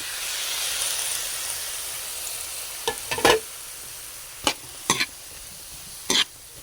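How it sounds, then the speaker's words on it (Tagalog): Tomatoes and onions sauté in a pan for a grilled squid filling, a steady sizzling hiss broken by several sharp utensil scrapes and clacks near the end, with no talking. "Bahagya lang natin igisa yan"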